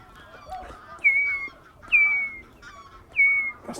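A person imitates the call of a redshank, a wading bird, giving three loud, clear whistled notes with a falling pitch, spaced about a second apart, over quiet background noise.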